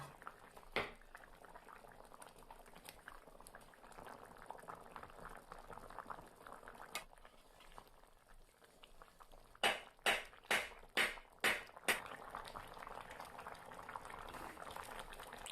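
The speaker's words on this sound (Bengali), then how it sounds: "দেখুন ঝোলটা ফুটে গেছে" A thin fish curry broth with cauliflower, potato and brinjal bubbles at a soft boil in a pot, with a faint, continuous burble and a quick run of sharp, louder pops or clicks late on, and no talking.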